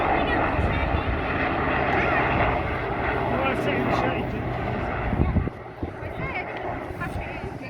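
A Sea King helicopter flying at the Midlands Air Festival at Ragley Hall gives a steady, loud engine and rotor drone throughout, with someone talking over it.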